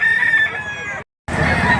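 Chickens cluck and a rooster crows loudly nearby at a livestock auction market in Lipa, Batangas, the calls stopping abruptly for a brief silence before resuming just as loud.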